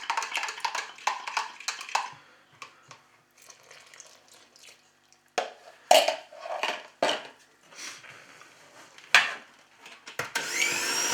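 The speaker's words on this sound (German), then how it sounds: "Wir rühren dann den Teig für ein paar Minuten kurz durch" Pizza dough with quark and a milk-yeast mixture stirred in a mixing bowl: irregular scraping and knocking clatters, some quick and bunched, others in louder separate strokes, with no talk.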